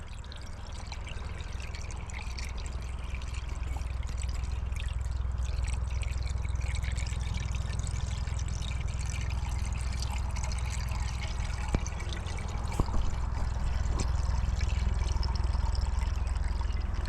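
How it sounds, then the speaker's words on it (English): Water is poured steadily into a car radiator during a repair, making a continuous trickling gush over a low rumble, with a couple of small knocks near the end. "Now we're gonna fill the rest of it up with water."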